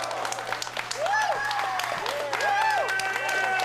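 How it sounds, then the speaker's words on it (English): Wrestling fans at an indie show in Berwyn clap and cheer from the crowd, the applause rising midway under a play-by-play commentator's voice and a rising-and-falling tonal whine. "Hearing the applause of the fans in attendance here in Berwyn"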